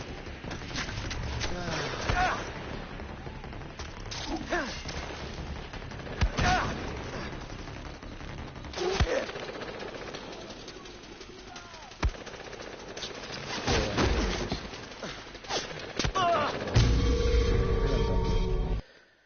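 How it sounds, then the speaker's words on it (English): Gunshots in the Narcotic Connection video game: scattered single and burst shots at moderate volume, spread irregularly over a long stretch with talking and other game sounds around them. "Someone's shooting."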